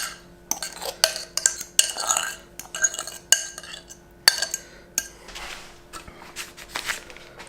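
Eggy quiche mixture for a gluten-free no-pastry quiche is scraped and spooned into a dish, giving a string of close utensil clinks and taps against the dish with soft scraping between them.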